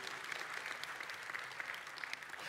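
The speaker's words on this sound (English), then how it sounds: "go ahead and clap for them" Applause for a couple at a wedding, a brief, fairly faint burst of many hands clapping steadily throughout.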